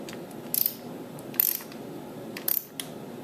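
A ratchet wrench loosens a bolt on a 2004 Harley-Davidson Dyna Custom, three short bursts of rapid clicking over a low steady background hum, close and clear.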